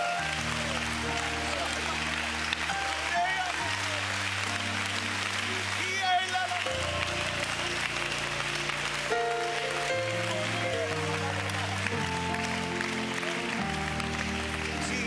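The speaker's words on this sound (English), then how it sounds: "Can we clap our hands to the Lord?" A church congregation at a district conference claps along steadily to loud music, the rhythmic clapping blending into the continuous band and singing.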